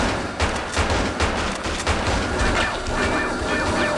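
Rapid gunfire on a TV series set, blank-firing prop weapons in an indoor stage, a dense burst of loud overlapping shots with sharp cracks and booms filling the whole stretch without pause.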